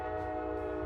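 A train horn blares as one loud, steady, continuous tone with rich harmonics, held without a break.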